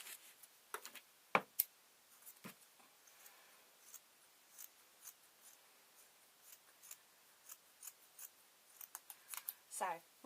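Scissors snip through fleece fabric at a tabletop in scattered, quiet cuts and crunches against a near-silent background.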